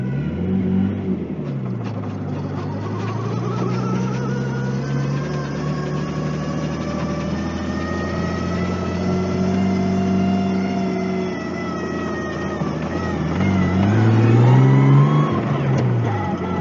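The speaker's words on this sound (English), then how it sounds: "The exhaust sounds really good though" A Nissan 240SX S13's exhaust drones steadily as it drives, with rising and falling engine pitch and a louder rev near the end.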